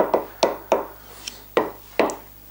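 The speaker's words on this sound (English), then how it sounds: "Okay, let's give that a bit of a stir up." Spoon scraping and knocking through a sausage and chorizo casserole in a pan, five or six separate close strokes at an irregular pace, no talking.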